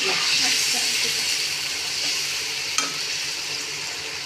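A chilli spice mixture goes into a hot pan for a rohu fish curry, setting off a steady hissing sizzle. One sharp clink cuts through partway, with no speech over the frying.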